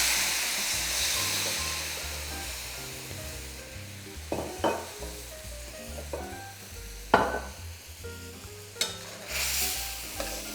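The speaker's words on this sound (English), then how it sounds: "We're gonna deglaze the pan with a little bit of dry sherry" Salisbury steak pan deglazed with a splash of dry sherry, a soft steady sizzle with a spatula scraping and knocking against the pan bottom in irregular strokes, close and moderately loud.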